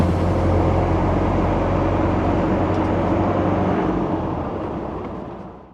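A restored 1992 Land Rover Defender 110 TDI convertible with a five-speed gearbox drives along, its steady low engine drone and road rumble filling the cabin before easing off toward the end.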